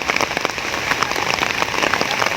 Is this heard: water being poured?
no